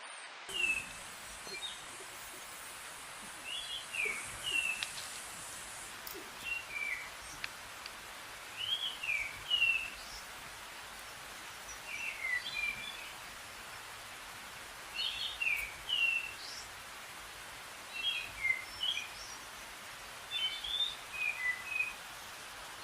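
Birds chirp and sing in short repeated phrases at a moderate distance, over a steady soft background hiss like distant water or breeze.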